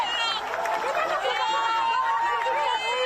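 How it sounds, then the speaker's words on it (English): A cheering crowd greets a freed hostage as van doors open on his arrival home in Israel, a dense wash of excited voices and chatter, steady and fairly loud throughout. "greeting a cheering crowd."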